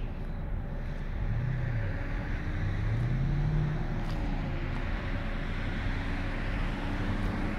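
A car audio system with a DC Audio Level 4 12-inch subwoofer on a DDX396 amplifier thumps deep, steady bass heard from far away outdoors, a continuous low rumble with rising tonal sweeps under wind noise.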